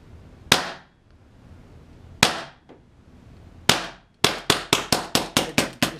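A high-pressure-air (HPA) air gun fired without its suppressor: three sharp, loud single reports spaced apart, then a rapid string of about eight cracks in quick succession.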